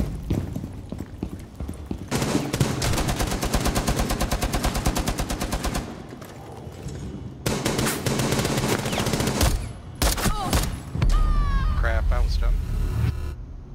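Rapid automatic gunfire from a Rainbow Six Siege match, shots fired through a window, loud and sustained bursts with short gaps, followed by sharp electronic game effects.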